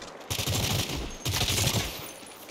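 A turret machine gun in the Saints Row game fires in two loud, dense automatic bursts, each lasting about a second, with a brief gap between them.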